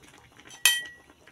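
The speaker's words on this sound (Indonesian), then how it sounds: "Kita aduk lagi." A spoon stirs jengkol stew with sweet soy sauce in a pot, giving one sharp metallic clink against the pot amid quiet scraping.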